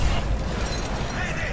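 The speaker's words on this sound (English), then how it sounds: "There's been an explosion! We're taking on water!" A loud, dense explosion blast in a video game, a sustained rumbling roar with crackling debris filling the whole moment, no speech.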